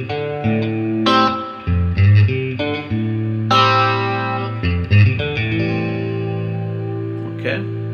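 The opening four bars of a song come from an effects-laden electric guitar with chorus and slight drive, a loud, close sequence of struck chords and picked notes that ring and sustain between attacks.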